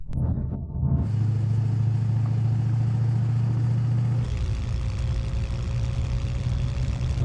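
Tuned Dodge Viper and Ford Mustang engines drone loudly at a race start, a steady low rumble that shifts in pitch partway through as they accelerate, with no voices.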